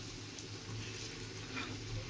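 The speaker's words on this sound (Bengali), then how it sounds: "ভালো করে বড়াগুলো ভাজতে হবে" Palm fruit fritters (taler bora) frying in hot oil, giving a steady, soft bubbling sizzle that runs evenly throughout without a break.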